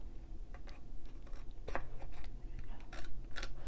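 Scissors snipping paper for a Valentine sliding matchbox, a string of crisp, close cuts at irregular intervals, with quiet handling noise between them and no talking.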